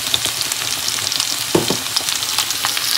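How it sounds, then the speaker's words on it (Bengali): Potatoes frying in a pan, a steady close hiss of oil sizzling throughout with a brief soft stirring clatter partway through. "আলুটা এখানে ভাজা করে নিচ্ছি"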